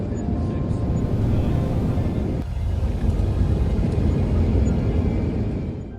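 Airplane engine roaring steadily during takeoff on the runway, a loud, continuous low rumble that briefly dips then surges again, filling the whole span.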